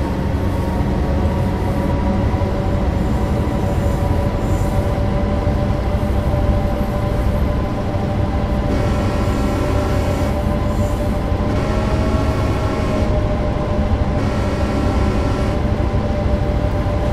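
A diesel freight locomotive on the Clinchfield Railroad in Train Sim World 2 drones under throttle, a loud, steady engine rumble with a sustained tonal whine that rises slightly as it gathers speed.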